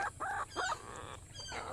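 Chickens in a coop give short clucks and squawks in a few quick bursts, faint and a little distant, over a quiet background.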